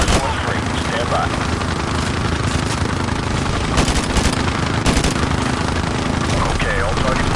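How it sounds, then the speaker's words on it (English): Heavy automatic gunfire in Call of Duty Modern Warfare Remastered, a dense, continuous barrage of rifle and machine-gun bursts with scattered louder shots, loud and sustained throughout. "We are taking heavy fire from a fortified position on the fifth floor"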